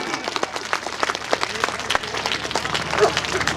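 An audience at a Hindi comic poetry gathering in Rewa bursts into loud, sustained applause, with many hands clapping close together and a voice faintly audible underneath.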